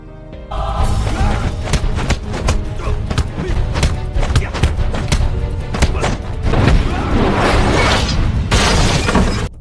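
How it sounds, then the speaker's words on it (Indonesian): Kung fu fight scene from the Ip Man film, with loud, rapid crashes and shattering as furniture and objects break, dense thuds and impacts following one another for several seconds, no speech. "Di sini Jin beberapa kali merusak barang"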